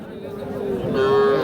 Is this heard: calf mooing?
yes